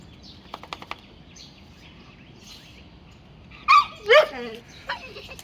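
A dog outdoors gives two loud, close barks in quick succession after a stretch of soft yips, with a person talking nearby.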